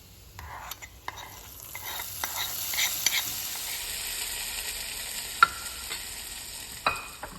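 Cashews and raisins fry in a pan for papaya kheer, with a soft steady sizzle and repeated light scrapes and clicks of a spoon moving them around, and no voices.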